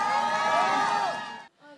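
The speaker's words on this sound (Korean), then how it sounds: "집회 참가자들은 연신 감탄사를 터뜨리며 환호성을 올렸습니다" A large crowd of rally participants at a protest in Daegu, South Korea, cheers and shouts in a loud, sustained roar that cuts off abruptly near the end.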